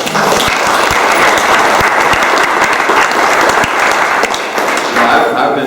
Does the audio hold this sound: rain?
no